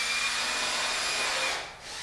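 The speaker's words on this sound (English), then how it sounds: "Drilling into the studs with the 3/32 inch bit," A steady, broadband whir of a power drill with a 3/32-inch bit boring into wooden wall studs, continuous for about a second and a half before briefly dipping and resuming.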